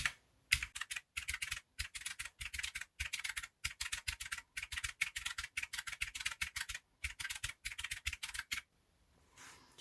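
Fast typing on a computer keyboard while filling in a budget tracker spreadsheet: quick bursts of crisp key clicks separated by short pauses, close and fairly quiet, stopping just before the end, with no talking.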